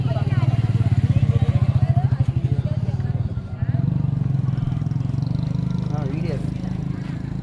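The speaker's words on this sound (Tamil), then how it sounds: "வண்டி ஸ்டார்ட் பண்ண போகிறோம்" A vehicle engine setting off for a village wedding trip fires up and settles into a loud, close, throbbing idle with a rapid pulsing rhythm, while people talk over it.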